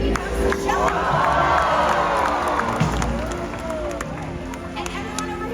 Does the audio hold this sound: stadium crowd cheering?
yes